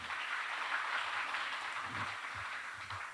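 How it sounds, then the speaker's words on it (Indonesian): An audience at a Syawal religious gathering claps in a faint, continuous patter of applause heard from a distance, with no voices over it. "Boleh sekali lagi diberikan tepuk tangan yang meriah"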